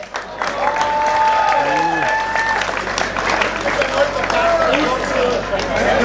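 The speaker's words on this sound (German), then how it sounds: "Ganz einen herzlichen Applaus bitte für den Stoll Harald und Neuner Siegfried." Warm crowd applause for two musicians at a Tyrolean church fair in Arzl im Pitztal, 2014, sustained clapping mixed with lively chatter and some whistling tones throughout.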